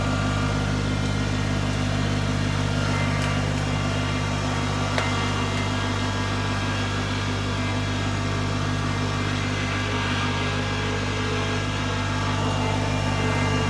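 A Kubota tractor engine pulls under load during tree cutting by a river. It gives a steady, loud, close drone with strong low harmonic bands that stays continuous for the whole stretch, with a couple of faint clicks.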